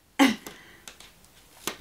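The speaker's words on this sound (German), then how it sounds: "Ich entschuldige mich noch für meinen Husten." A single loud, sharp cough bursts out near the microphone, followed by a few faint throat noises and soft breaths in an otherwise quiet indoor room.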